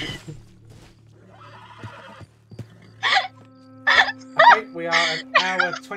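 A horse in Red Dead Redemption 2 gives a series of loud, close whinnies and snorts near a stable, following quieter clip-clop hoof sounds, with a person talking briefly at the start.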